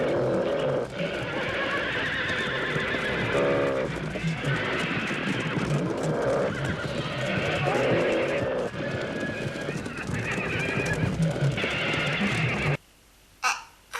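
Horses whinny in terror as giant rabbits attack them in the 1972 horror film Night of the Lepus: repeated loud, shrill neighs over chaotic hoofbeats and commotion, then a sudden near-silence with a final brief burst.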